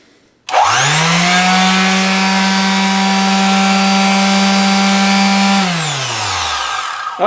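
A Chicago Electric 1/3 sheet finishing sander, model 61309, spins up with a sharp start, runs at a steady high-pitched whine for several seconds, then winds down.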